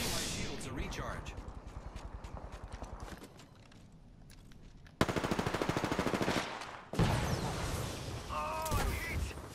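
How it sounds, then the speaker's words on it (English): Automatic gunfire during an Apex Legends firefight on PS4, with a loud, rapid burst in the middle of the clip and more shots after it, mixed with other busy game sounds. "They're shooting at me."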